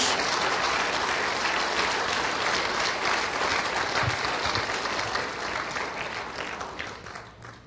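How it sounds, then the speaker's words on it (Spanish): Loud, dense applause of praise from a church congregation, many hands clapping continuously before gradually tapering off at the end. "Dale un aplauso fuerte de alabanza a nuestro Señor Jesús."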